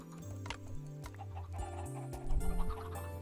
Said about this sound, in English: No, not the chicken.